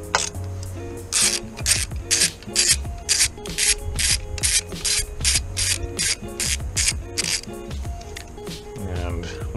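Close ratchet working 10mm bolts off an intake manifold bracket on a 4.6L DOHC engine, with quick bursts of rapid clicking in a rhythmic back-and-forth pattern and metallic rubbing underneath.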